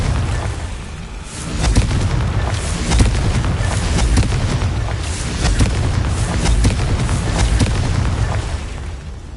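Confringo fire spell exploding in Hogwarts Legacy, heard as a dense, continuous barrage of booming blasts and crackling bursts, loud and close for several seconds.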